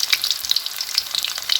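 Vegetables sizzle steadily in a hot pan for veggie fried rice, a close, crackling hiss with irregular pops and no voices.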